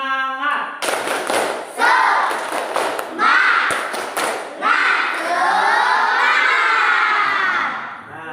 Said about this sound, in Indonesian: Bapak minta satu kali tepuk semangat.